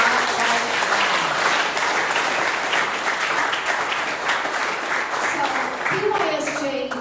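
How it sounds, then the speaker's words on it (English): Loud, dense applause fills an anniversary speech event for the whole stretch, with a voice speaking over the clapping near the end. "Can we clap here?"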